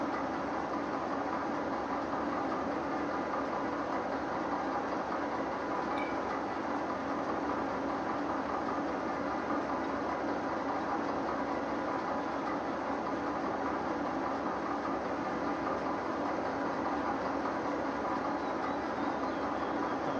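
A train running in the Derail Valley train simulator game, a continuous even rumble of rolling wagons and engine drone that holds steady and fairly loud throughout, alone without voices.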